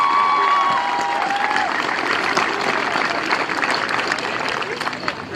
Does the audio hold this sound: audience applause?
yes